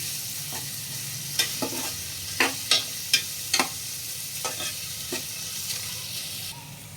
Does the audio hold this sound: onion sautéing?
yes